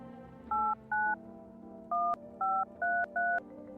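Six touch-tone telephone dialing beeps sound in two groups, two then four, each short and clear over a low hum, from a phone in the horror video game No, I'm Not a Human.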